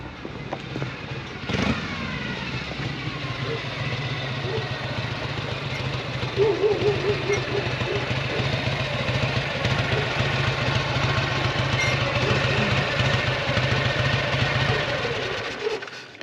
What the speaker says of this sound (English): Flathead! How's she running, Hooch?